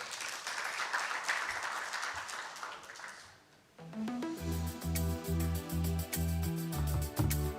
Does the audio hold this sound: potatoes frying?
no